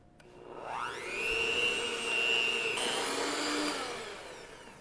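An electric mixer whirs through chocolate walnut biscotti dough, spinning up quickly to a steady whine and holding for several seconds before easing off, close and loud with no talk.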